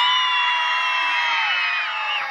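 Schoolchildren at an elementary school event scream together in a loud, sustained group roar that holds steady for a couple of seconds before tapering slightly.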